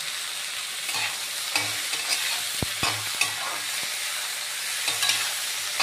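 Tomato pieces fry with softened bottle gourd for a ground chutney, giving a steady close sizzle with occasional stirring scrapes and clinks, and nobody talks.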